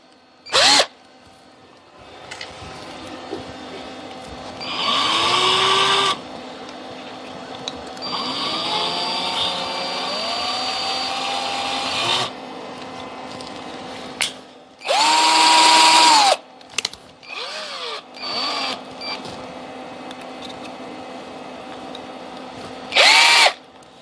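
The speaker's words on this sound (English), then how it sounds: "I'm going to change that out for my number 7 drill." A 1900s drill press whines in several separate bursts with a number 7 drill bit, its pitch rising and falling as it spins up and down, with quiet pauses and faint mechanical rattles between runs.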